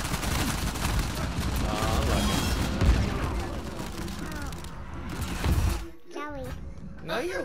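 A shooting video game plays dense bursts of rapid gunfire and explosions, with a small child and an adult talking over the steady barrage.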